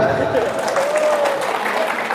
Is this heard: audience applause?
yes